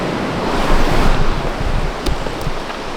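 Rushing water at a waterfall, a steady broadband roar close by with gusts of wind buffeting the microphone and a few brief knocks, no voices.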